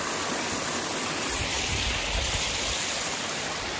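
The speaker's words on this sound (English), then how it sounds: "I saw this creek and thought it was worthy of stopping" A creek rushes beside Little Wenatchee Road in the Wenatchee National Forest, a loud, steady, close wash of flowing water with no voices.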